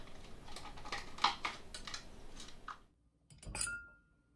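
Ice clinks and rattles into a cocktail glass, several bright knocks over the first few seconds, then a pause and a final louder clatter as a cube settles, with the glass ringing briefly afterward.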